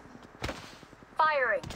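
Gunfire from the shooter game Apex Legends Mobile comes in two short, sharp bursts, with an electronic in-game voice line sounding between them.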